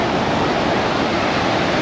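Small ocean waves break on the shore at Acadia National Park in Maine, a steady, loud, broadband wash of surf with no let-up and no voices.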